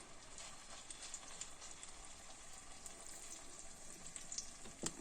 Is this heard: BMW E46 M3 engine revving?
no